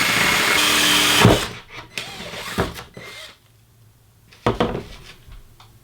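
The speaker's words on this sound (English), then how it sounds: "Drill it right through to the second." A power drill fitted with a Forstner bit bores through an IKEA LINNMON tabletop: about a second of loud, steady whirring grind, then the motor stops and a few close knocks and clatters follow.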